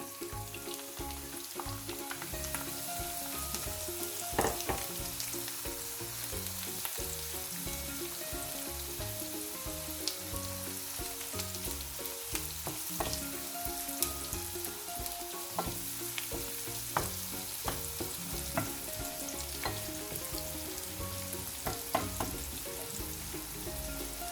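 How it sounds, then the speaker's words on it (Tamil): Dried anchovies sizzle and fry with onions in a pan, giving a steady, dense crackling hiss with brief pops, loud and close throughout, with no talking. "சரி, கருவாடம் பொரிஞ்சு முடிஞ்சது."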